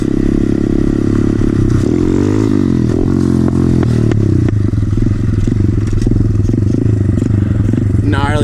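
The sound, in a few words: SSR 110cc pit bike engine backfiring with FMF exhaust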